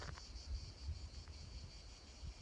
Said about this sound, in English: They call it cicadas.